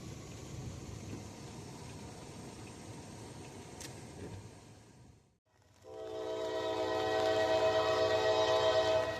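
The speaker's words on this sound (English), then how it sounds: "back to the triple for a southbound Norfolk Southern grain train" A southbound Norfolk Southern grain train rumbles past close by, its steady roar swelling loud after a brief lull, with a horn sounding over the rolling wagons.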